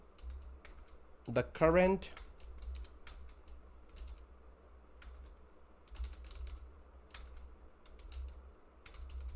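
Fingers type a message on a computer keyboard, scattered quick key clicks that sound near and fairly quiet over a faint low hum, with a brief burst of speech early on.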